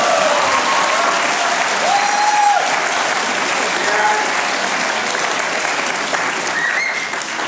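A studio audience at a comedy talk show gives sustained, full applause, dense clapping holding steady and easing only slightly at the end, with faint voices beneath the crowd.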